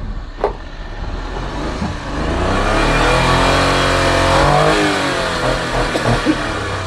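Japan-surplus car engine at a used-vehicle yard in General Santos City, revved by a prospective buyer: a brief blip, then a strong climbing rev that holds and falls back toward idle, loud and close.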